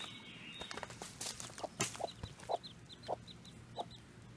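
A mother hen clucks softly and repeatedly beside her two newly hatched chicks, whose faint high peeps mix with the low, close, rhythmic clucks.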